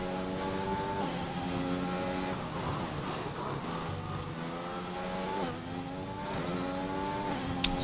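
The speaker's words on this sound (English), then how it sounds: "A few cars out on the track already" Formula 1 race cars from F1 2021 roar around the Brazil circuit, several engines rising and falling through gear changes as cars pass, steady and fairly loud throughout with a brief sharp click near the end.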